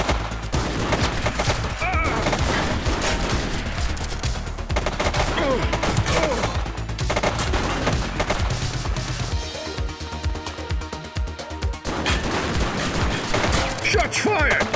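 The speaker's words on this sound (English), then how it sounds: "Shots fired! One less bad guy." Rapid, dense gunfire in The Precinct police video game, loud sustained volleys and bursts filling nearly the whole stretch, with a brief lull before the shooting resumes and faint voices mixed in.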